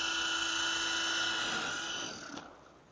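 Ozone Elite 3.5-channel RC helicopter spooling up in an open palm, with a steady high electric motor and rotor whine that holds loud and then eases off near the end.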